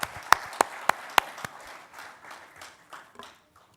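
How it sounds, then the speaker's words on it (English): Applause from a conference audience at an agriculture innovation session, opening with a few sharp, loud individual claps, then a softer scattered patter that fades out over a few seconds. "Round of applause for you."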